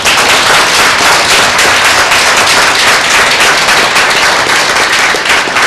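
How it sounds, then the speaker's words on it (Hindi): A church congregation at a Tuesday worship meeting claps loudly and continuously, a dense, steady roar of applause filling the room with no pauses. "एक जोरदार ताली देते हैं भाई"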